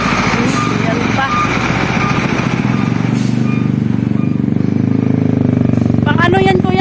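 Large vehicles such as trucks rumble past heavily, with a constant engine roar throughout. People talk over the traffic.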